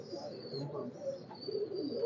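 Soft, low cooing from small teddy pigeons, a male and female pair of KTM and Oman bloodline, faint murmuring calls repeating over a quiet background with a thin high whine.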